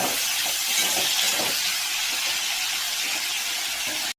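Sliced onion, potato and peas fry in a pan, giving a loud, continuous hissing sizzle that holds steady from start to finish and then cuts off abruptly.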